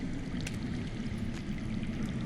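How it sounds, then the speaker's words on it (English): Underground water flowing in the Game of Thrones Telltale video game, a faint, steady trickling and rushing stream with a few soft splashy accents. "I hear water. From underground."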